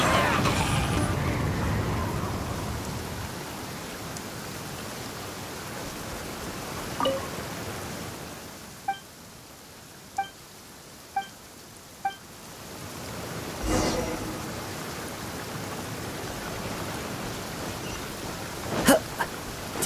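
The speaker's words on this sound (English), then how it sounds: "Taking a stroll in the middle of a downpour certainly rouses the spirit." A steady rain downpour in Genshin Impact hisses as a broad, even wash of noise, with a few faint chiming tones and light taps scattered over it, moderately quiet throughout.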